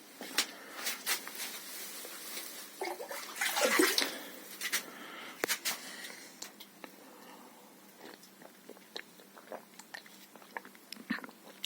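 Water from a spring splashes and trickles close by, with a louder gush in the middle and scattered clicks and small knocks afterward.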